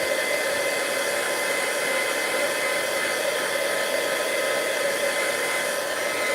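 An embossing heat tool blowing hot air over a card to melt the embossing powder, a steady, loud whooshing drone that stays constant from start to finish, close up and with no talking.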